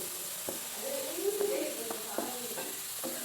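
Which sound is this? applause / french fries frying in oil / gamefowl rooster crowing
french fries frying in oil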